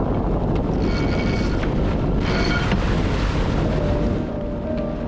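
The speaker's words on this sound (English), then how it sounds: "Luckily, the wind picked up again" Strong steady wind roars across the microphone aboard a sailboat at sea off Iceland, a constant loud rush with water noise underneath and no voices.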